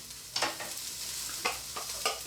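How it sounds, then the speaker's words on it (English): Onions frying in warmed oil for a healthy home-cooked meal, a steady soft sizzle with four sharp stirring scrapes and clatters spread across the clip, close by and with no talking. "I'm going to get my onions in."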